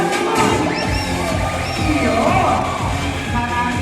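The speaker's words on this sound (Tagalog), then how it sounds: "palambing po ng isang malakas na palakpakan na may hiyawan naman" A party audience at a celebration breaks into loud applause mixed with cheering and shouts, a dense sustained crowd roar with voices on top.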